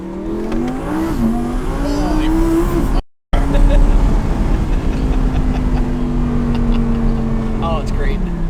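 A turbocharged Audi R8 with a roughly 1000 whp turbo package revs at half throttle, a loud rising and falling engine note with a brief cut, and people talking excitedly over it.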